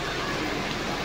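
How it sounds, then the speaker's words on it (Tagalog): Heavy rain from Typhoon Carina pours down in a loud, dense, unbroken hiss, close and steady throughout the short moment. "Grabe, mas lalo pang lumakas yung ulan"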